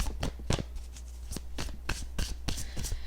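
Gothic Tarot cards being shuffled by hand in quick, repeated riffles and flicks, close and crisp, with no talking.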